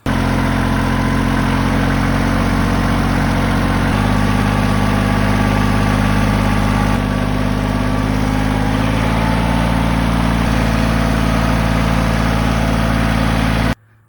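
A Kubota tractor engine runs steadily and loudly up close, a deep continuous rumble with a slight shift in pitch partway through, then cuts off abruptly.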